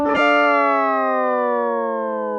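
A sustained, bright synth-like bass tone from a bass effects pedal with rich harmonics, struck sharply then ringing out and slowly gliding downward in pitch, loud and alone.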